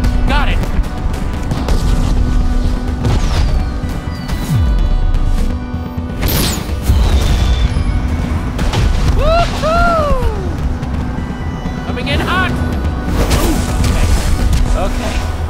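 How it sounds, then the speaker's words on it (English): Fireworks bursting in the video game Minecraft Story Mode Season 2: a few sharp booming blasts and rising whistles spread through the clip over steady game music and ambience. "Firework lights. Do the firework."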